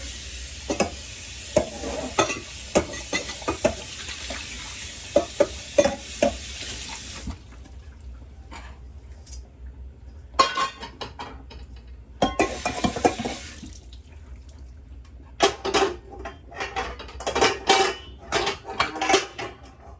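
Tomato puree goes into a pot of vegan homemade soup, with clattering pot and utensil knocks, stirring scrapes and brief running water in uneven bursts, close and fairly loud, no talking.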